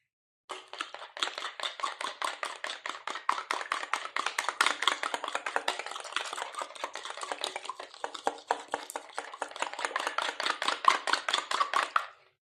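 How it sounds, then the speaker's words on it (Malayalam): Egg mixed with salt, pepper powder and milk is whisked briskly in a bowl for fish cutlets, a rapid run of light clinking strokes that goes on for about twelve seconds before stopping. "കുറച്ച് പാലും കൂടെയും ചേർത്ത് നമുക്ക് നല്ലോണം അടിച്ചെടുക്കാം"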